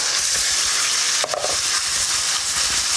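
Very hot oil in a very hot wok, frying loudly in a dense, continuous sizzling roar with a brief dip near the middle.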